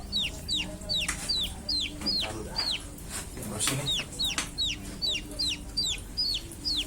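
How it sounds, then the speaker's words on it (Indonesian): Chicks cheep steadily in a quick, regular series of high, descending peeps that carry at moderate loudness at night, while a voice speaks quietly beneath them. "Ya suara anak ayam ini mah."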